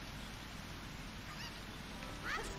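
Cucco chickens clucking and squawking in The Legend of Zelda: Ocarina of Time, a faint brief call near the end over a steady low background hum.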